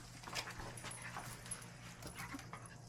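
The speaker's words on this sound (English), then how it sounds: "I've had this little doggy at my feet" A small dog at someone's feet begging for Brazilian barbecue meat, faint whimpers and soft yips with light panting, quiet and close, in a calm outdoor setting.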